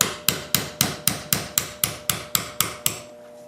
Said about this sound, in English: I'll take my 1/8 inch roll pin punch and I'll punch the pin out.